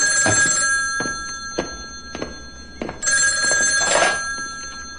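An old-style telephone bell rings in loud repeated bursts indoors, with a few soft knocks between the rings.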